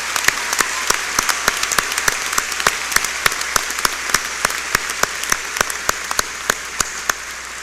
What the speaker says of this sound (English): Please join me in some applause for these distinguished students.